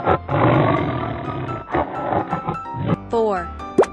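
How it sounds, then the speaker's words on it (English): A loud, sustained tiger roar from a children's animal video dominates at first, then breaks into short grunts alongside chirpy cartoon sound effects near the end. "Tiger."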